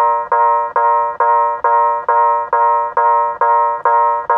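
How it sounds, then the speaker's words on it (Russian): A marine loudspeaker sounds the signal for a vessel lying at anchor, switched on from a radio system aboard a boat moored in a marina: a steady run of about ten short, rapid electronic tone pulses, loud and close, with no talk. "Вот, это сигнализация о том, что мы стоим на якоре"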